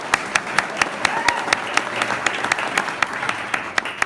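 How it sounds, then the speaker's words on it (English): Applause from a crowd at the ribbon cutting ceremony for the Nickelodeon studio expansion, a steady patter of many hands with a few sharp, close claps standing out at a regular beat. "All deserve a round of applause as well."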